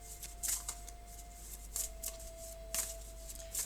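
Tarot cards shuffled and drawn by hand, giving soft, quiet bursts of riffling and flicking separated by pauses, close and without talk, over a faint steady hum.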